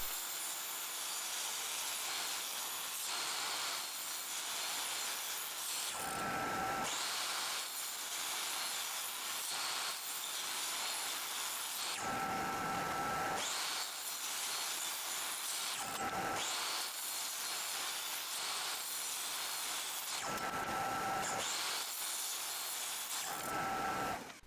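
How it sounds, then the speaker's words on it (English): A power saw cross-cuts glued wood strips into 2-inch slices for a chess board, with several separate cutting passes at a moderate distance and quieter gaps between them. "With a straight edge, you can now cross-cut it all into 2-inch slices to get them ready for the second and final glue up."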